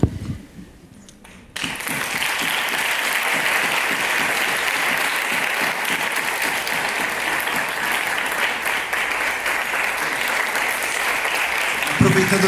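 Audience applause at a lecture on music in children's upbringing. A brief quiet opening gives way to sustained, dense clapping from a large crowd that holds steady to the end.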